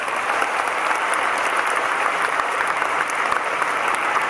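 A stadium crowd at a baseball retirement ceremony at Yokohama Stadium keeps up loud, continuous applause. The clapping is dense and even throughout.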